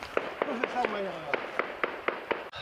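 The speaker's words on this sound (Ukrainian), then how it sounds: "почалася стрілянина. Схоже, що працюють по дрону." Gunfire aimed at a drone during a civilian evacuation in Donbas: about nine sharp, fairly close cracks at a steady, spaced rhythm, heard beneath continuous talking.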